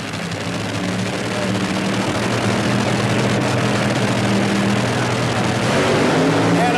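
Top fuel dragsters at the 1982 NHRA Cajun Nationals, Shirley Muldowney against Lucille Lee, launching off the line: a continuous, loud, dense engine roar that holds steady throughout.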